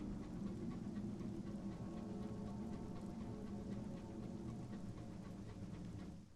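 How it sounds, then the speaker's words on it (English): Howling candle wind in the video game Sunless Skies, a steady droning rush with faint rhythmic ticking layered over it, holding at an even level before fading at the end. "The howl of the candle wind."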